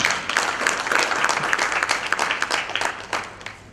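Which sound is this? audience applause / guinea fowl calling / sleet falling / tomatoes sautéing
audience applause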